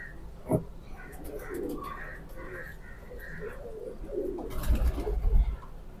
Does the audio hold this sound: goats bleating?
no